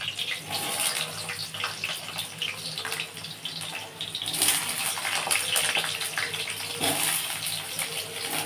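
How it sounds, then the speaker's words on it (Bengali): Sliced potatoes frying in a pan of hot oil for a cauliflower and prawn curry, a steady loud hiss and bubbling crackle running continuously throughout. "আমি আলুগুলো ভেজে নিচ্ছি।"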